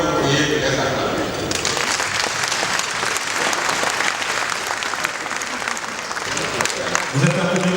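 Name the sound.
audience applauding the footballers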